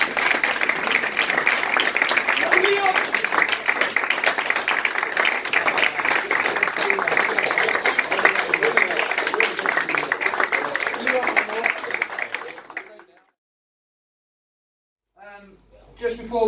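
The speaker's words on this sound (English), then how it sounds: "So a big round of applause to all of you guys." Sustained applause from a crowd at a football club's end-of-season awards night, dense and loud for about twelve seconds before cutting off, followed by a short burst of talk.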